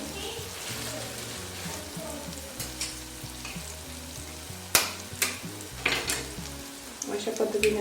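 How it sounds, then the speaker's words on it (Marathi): Eggs sizzle in a hot pan with spices for anda bhurji, a steady close crackle with sharper pops and stirring scrapes building toward the end, and faint talk in the background. "यामध्ये लगेच आपण अंडी घालणार आहोत"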